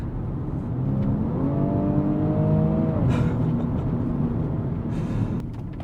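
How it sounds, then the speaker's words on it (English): Turbocharged BMW M235i engine revving up steadily for about three seconds, its tone climbing before easing off into a lower, steady drone, heard loud and close from inside the cabin. "a fraction of a second of lag until those turbos spool up and kick in"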